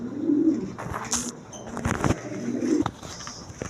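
Pigeons at a pigeon sale coo repeatedly in low, rolling bursts, close and clear, with wing flutters and clatter from the birds around them.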